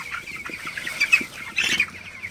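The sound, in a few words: broiler chickens clucking in a poultry shed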